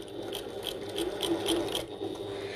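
Stitching a bucket tote bag, a sewing machine hums nearby in a quick run of even, rhythmic needle pulses, quiet and steady, with no voices.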